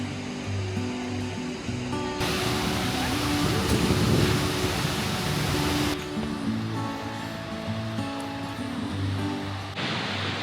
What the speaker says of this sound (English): This lovely waterfall up here.